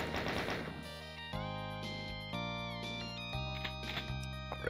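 In Doom 2, a chaingunner's rapid-fire chaingun rattles in fast bursts over a loud, sustained synth music track that dominates the mix.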